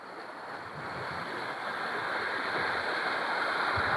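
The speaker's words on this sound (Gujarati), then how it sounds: "જો આ રીતે આપણે પાણી જાય છે નદીમાં" Floodwater after heavy rain rushes down the Derala Mahanadi river in a broad, continuous roar that swells slightly louder over a few seconds, with no voices.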